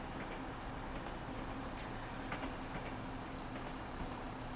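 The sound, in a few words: train running uphill on the Goblin line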